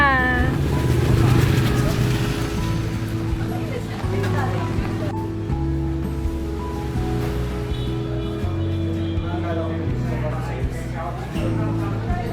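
A boat engine drones steadily at close range in Vietnam, with water sloshing and voices talking over the running motor.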